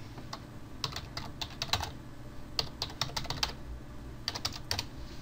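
Quick, close keystrokes on a computer keyboard come in short bursts with brief pauses between them, clear over a quiet room with no voices.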